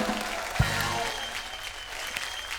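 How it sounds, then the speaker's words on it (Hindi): Loud studio audience applause on a Hindi comedy show, a steady broadband clatter of many hands filling the whole stretch, with a brief thump near the start. "बेटी हुई है, जोरदार तालियां"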